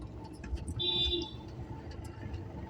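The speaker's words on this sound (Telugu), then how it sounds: "వెనక హారం కొడుతుంది." A car horn sounds from a vehicle behind, heard from inside a moving car. One short, fairly clear honk rises briefly over the low rumble of road noise.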